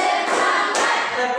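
A classroom group claps together on cue, giving a dense burst of clapping that swells briefly in the middle of the sound.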